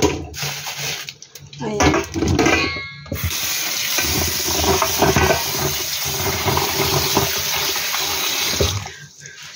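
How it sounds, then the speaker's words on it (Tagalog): Tap water pours into a basin for soaking oysters, a loud continuous splashing fill after a few brief knocks, with a short spoken word near the start. "ang gagawin ko ay ibababad ko muna sa tubig."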